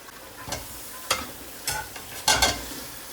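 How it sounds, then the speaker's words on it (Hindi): Chicken pieces go into a hot pot for pulao, with a soft sizzle under four distinct scraping stirs spaced roughly half a second apart, the last one loudest, and no voices. "अब हम इसमें अपना चिकन डाल देंगे"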